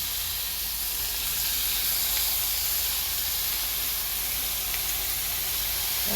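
Leafy greens hit a hot pan for a home-cooked lunch, setting off a steady, loud broadband sizzle and hiss that holds evenly throughout, close and with no voices.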